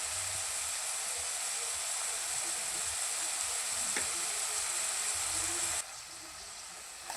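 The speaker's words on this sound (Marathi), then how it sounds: "तर चला हा मसाला 1-5 मिनिट आपण चांगला बारीक गॅसवरती परतून घेऊया" Masala spices fry in oil over a low flame for roasted brinjal curry, a steady close sizzle with a faint stir near the middle, then the hiss suddenly softens toward the end.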